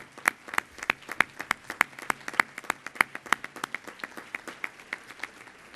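A rotary club awards ceremony audience gives a round of applause: many hands clapping in a brisk, fairly even patter, moderately loud and steady for several seconds, with no voices over it.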